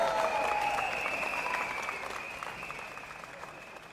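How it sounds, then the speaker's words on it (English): A crowd at an outdoor political lunchtime rally in Singapore applauds, a steady wash of distant clapping that slowly fades over a few seconds, with a faint tone hanging above it. "Give them a round of applause."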